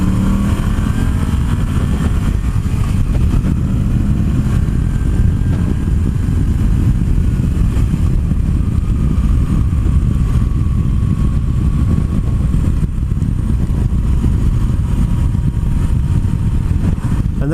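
A Moto Guzzi V85 TT motorcycle engine revs steadily and loudly at close range, its low rumble holding then building as it pulls through the gears.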